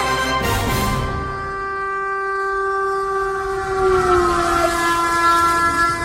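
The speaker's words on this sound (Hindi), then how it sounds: "ट्रेन अपनी ही तरफ आ रही है।" A train approaches with a long, sustained horn blast, loud and steady over rumbling rail noise, the horn pitch sliding slightly as it draws nearer.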